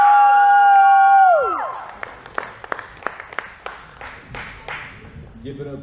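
After a sustained tone fades, scattered, uneven hand claps from a small open-mic comedy audience in Houston patter in the room for several seconds, thinning toward the end as voices murmur.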